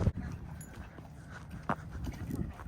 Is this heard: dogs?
yes